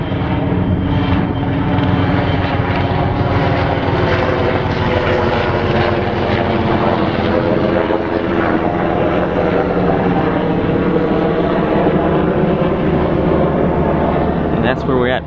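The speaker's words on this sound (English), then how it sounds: "Helicopter right there." Helicopter passing overhead in an outdoor park by the water, a loud, continuous rotor and engine drone that fills the moment, with people talking underneath.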